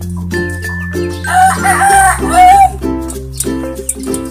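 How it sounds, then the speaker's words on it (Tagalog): A home-raised rooster crows loudly and close by, one long drawn-out call rising over steady low clucking and fowl noises from the flock around it. "Ito naman po yung mga chicken na pinalalaki rin natin."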